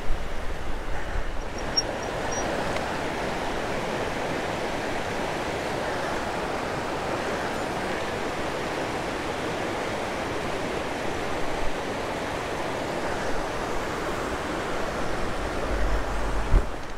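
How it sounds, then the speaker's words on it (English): Continuous broadband rush of flowing water, moderately loud and steady, a full creek tumbling downhill beside a mountain pass road, with no voices. "it goes right along beautiful creek here that is just full of water"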